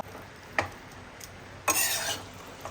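A spoon stirs beef and koorka curry in a pot, giving a few scraping clicks and then a longer, louder swishing scrape near the end, with no talk.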